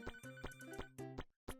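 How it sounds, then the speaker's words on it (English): A telephone in a pizza-making video game rings in repeated electronic bursts, loud and steady, cutting off briefly before one more ring starts. "That phone can ring."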